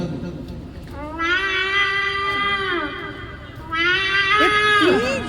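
A human voice imitates two cats fighting at night, drawn-out wavering yowls rising and falling in two long loud bouts, close and alone without ordinary talk.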